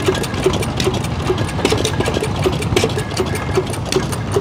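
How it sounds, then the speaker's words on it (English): An antique pump engine runs at a steam tractor show, chugging in a steady, rapid mechanical rhythm with evenly spaced clicks over a busy outdoor background. "He's gonna fire up the pump for us."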